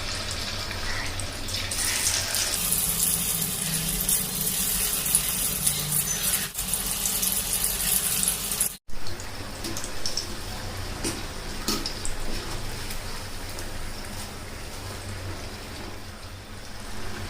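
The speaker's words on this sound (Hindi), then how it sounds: "तो अब हम चनों को फ्राई कर लेंगे।" Chickpeas fry in hot oil in small batches for dhaba-style chana lehsun, giving a steady, close hissing sizzle that continues throughout with occasional light clicks.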